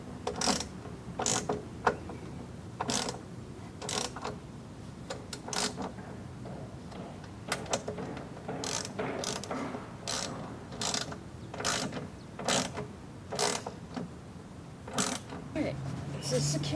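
A torque wrench ratchets as it tightens step rail bolts on a 2013 Nissan Xterra, giving repeated sharp clicking bursts in short rhythmic strokes, close and clear, with brief pauses between strokes.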